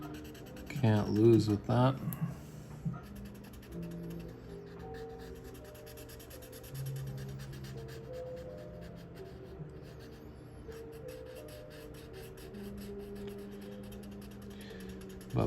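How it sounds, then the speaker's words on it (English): Felt-tip marker strokes scratch across paper while comic pages are drawn, a soft intermittent scribbling under low background music, with a short burst of speech near the start. "More marker ASMR."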